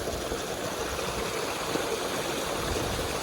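Water gushing from a broken pipe in a village field, a steady rushing stream sound, close and continuous, with a low rumble underneath and no talking.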